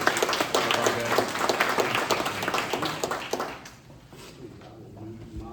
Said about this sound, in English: so just a round of applause